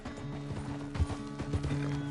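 Horse hooves clip-clopping at a walk in the video game Red Dead Redemption 2, a steady soft rhythm of muffled thuds with a low background drone and a few heavier footfalls.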